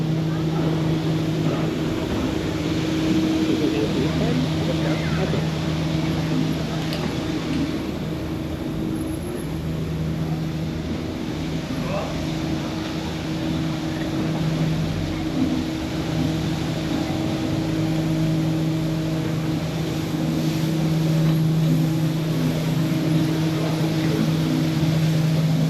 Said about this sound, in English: In case anybody's wondering what the noise are, we're being followed by the street cleaner.